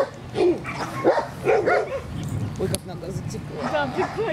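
A mixed-breed dog barks in a series of short, sharp yips and barks at close range, with a few whimpering notes and people talking quietly in the background.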